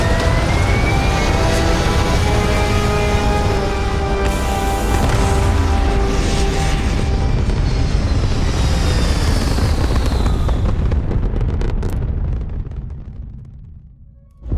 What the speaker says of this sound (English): Engines pumping.